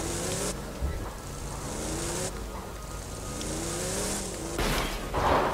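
A vehicle engine hums and revs while driving in Borderlands 2, a steady close motor drone with rising and falling pitch sweeps and a louder rev at the end.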